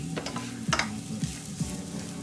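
Garlic and onions sweating in a pan while mussels are cooked, giving a steady low sizzle with a few brief stirring scrapes and clinks, close and alone with no talk.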